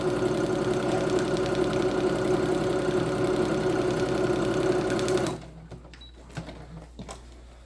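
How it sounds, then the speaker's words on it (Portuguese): A sewing machine runs steadily for about five seconds, stitching a seam on a foundation-pieced quilt block, then stops abruptly, leaving faint handling clicks. "Vou na máquina e passo a costura."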